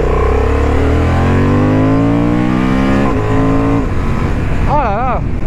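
A 2023 Honda CB750 Hornet motorcycle accelerating hard through the gears, its engine note rising in pitch, briefly dropping with a quick-shifter change, then climbing again, loud and close, with a short whistle-like tone near the end.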